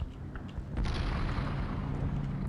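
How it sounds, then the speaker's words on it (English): A grenade blast in the World War II shooter Brothers in Arms: Earned in Blood, a sudden loud boom followed by a heavy rumbling roar that hangs on for the rest of the moment, with no talking. "I'm throwing a grenade!"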